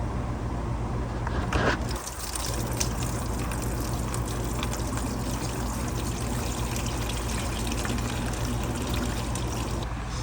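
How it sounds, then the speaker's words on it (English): Coolant drains from a hose on a Toyota Supra, a steady continuous trickling pour of liquid that runs unbroken at moderate level, with a brief clunk near the start. "I believe that's the coolant hose right there that we're gonna drain out"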